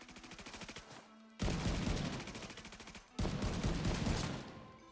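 Loud automatic gunfire from a video game shooter, in several long rapid bursts separated by brief pauses.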